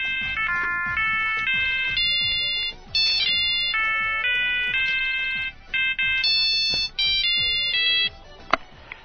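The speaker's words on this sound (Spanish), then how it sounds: "Intentaremos comunicarnos con Mr. John Richardson Richards" A telephone rings for an incoming call with a loud, continuous electronic ringtone melody that repeats its pattern over several seconds, with no speech.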